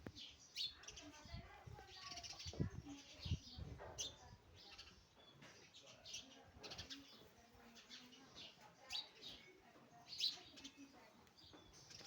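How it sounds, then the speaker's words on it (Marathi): Several house sparrows chirp close by around their nest, giving short bright tweets in irregular bursts, with soft wing flutters mixed in. "हा चिमणा पुढं गेला ही चिमणी परत उडून आली"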